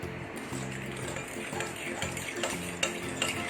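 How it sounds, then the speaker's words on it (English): A fork stirs flour batter for khandvi in a bowl, giving soft, irregular scraping and light metallic ticks close up, with faint kitchen hum underneath. "And then we transfer this flour and we mix."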